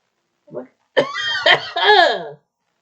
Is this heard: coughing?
yes